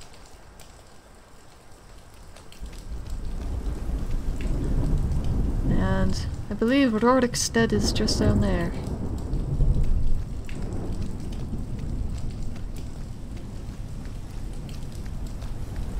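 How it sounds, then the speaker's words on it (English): Steady video-game rain falls throughout with low rumbling thunder underneath, while someone speaks briefly in the middle. "And it's still raining."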